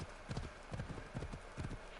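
A horse clip-clops steadily at a walking pace in Assassin's Creed Odyssey, its hooves falling in a regular, even rhythm that sits close and clear over a constant ambient wash.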